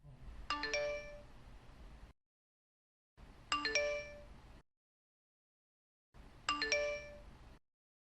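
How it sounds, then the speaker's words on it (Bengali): A cartoon doorbell rings three times at even intervals, each a bright, clear multi-tone chime that fades into silence before the next press. "এত কলিং বেল দিচ্ছি"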